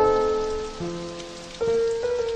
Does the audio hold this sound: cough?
no